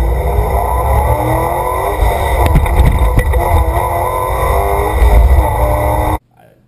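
A C5 Corvette Z06 at a drag strip roars hard under acceleration, loud and close, engine pitch climbing and shifting into second gear with tire spin, then cutting off abruptly at the end.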